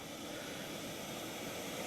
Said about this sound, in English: I've got my chicken Jaffres in the jet boil.